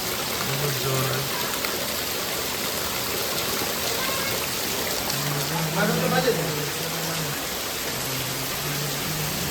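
Heavy rain pours steadily onto a road, a dense continuous roar throughout, with a few faint tonal hums and a voice in the background.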